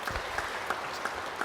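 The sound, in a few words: church congregation applauding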